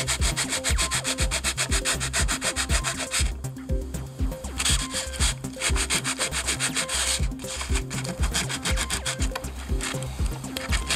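Steady, rhythmic scraping of sandpaper rubbed back and forth against a protruding nail on a homemade polycarbonate plastic bender, loud and close, with two short pauses and no talking.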